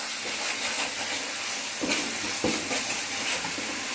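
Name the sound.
egg masala with tomato paste sizzling in pan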